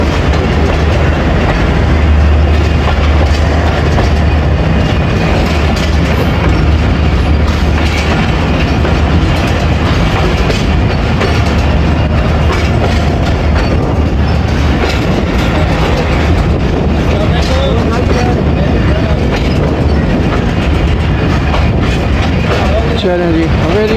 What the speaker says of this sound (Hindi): चलें जी, हवेली वसावे वाला से डिपार्ट कर गई ट्रेन।